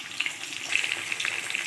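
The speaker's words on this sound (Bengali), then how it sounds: "মাছটা দিয়ে দিয়েছি কড়াইয়ের মধ্যে, ভাজা হোক।" Chitri fish frying in a kadai, a dense, steady crackling sizzle of hot oil with small popping bursts throughout, close and fairly loud, with no voices.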